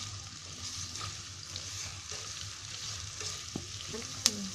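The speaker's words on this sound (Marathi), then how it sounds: "मी कांदा चांगला लाल करून घेणार आहे फ्राय" Onion frying in a pan over a high gas flame for a Konkani soyabean pulao: a faint, steady sizzle under a low hum, with a few soft stirs and one sharp clink near the end.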